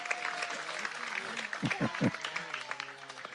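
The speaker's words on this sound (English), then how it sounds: "Big round of applause for my translator." A short spell of applause for a translator at a devotional gathering in Vrindavan, India, with scattered clapping mixed into voices and a few sharp, louder claps near the middle.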